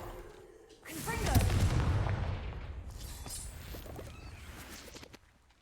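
A Confringo explosive spell blasts in Hogwarts Legacy, a loud burst followed by crackling debris and rumble that slowly fade over several seconds, with no talk.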